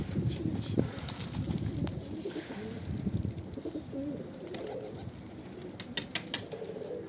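A young pigeon coos softly nearby in low, repeated calls, with faint wing flutters and background noise around it.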